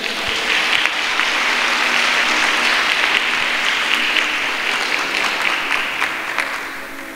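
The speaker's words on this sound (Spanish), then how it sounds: "fuerte las palmas" Loud, dense applause from a church congregation, many hands clapping close and steady, fading slightly toward the end.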